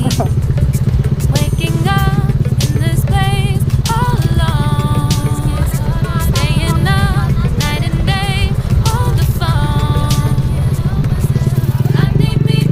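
A Yamaha SZ16 motorcycle being ridden, its steady engine drone running continuously and close under music and talking voices.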